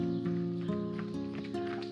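Hooves clop in a quick rhythm as a donkey cart rolls along a village road in Aksu, Xinjiang, heard close beside a tonal hum for under two seconds.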